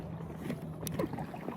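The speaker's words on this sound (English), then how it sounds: "It's like 6:45 and it's kind of windy, so at least the waves are nice." Wind and lapping lake waves around a kayak, a steady low rush of breezy water noise with a few small splashes against the hull, fairly close and continuous.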